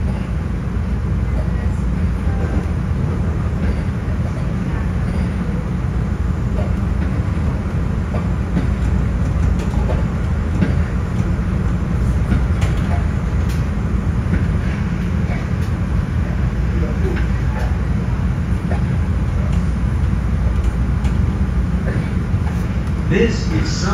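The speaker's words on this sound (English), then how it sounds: "This is a Purple Line train to Howard." Steady low rumble and rattle of a Chicago CTA Purple Line elevated metro train rolling along rails, continuous and close, with faint clicks riding over the drone.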